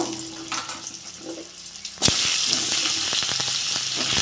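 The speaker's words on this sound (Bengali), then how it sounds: "তেলে আমি আলুগুলো ভেজে নেব" Potatoes drop into hot oil left from frying fish, and a quiet kitchen bursts into a loud, steady sizzle with small pops.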